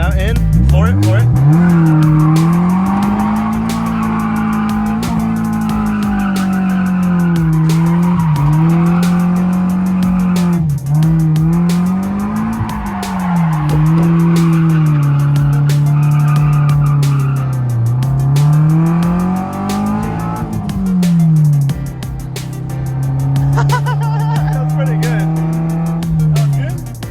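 Nissan 240SX drift car at practice, engine revving hard and wavering with throttle while tires squeal continuously, loud and close; a voice talks over it at times.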